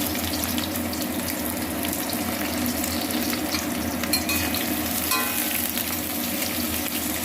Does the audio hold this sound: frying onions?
yes